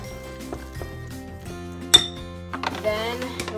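A spoon clinks repeatedly against a bowl while thick cornbread pancake batter, thinned with a splash of milk, is stirred. There is one sharper clink near the middle, with faint music playing steadily underneath.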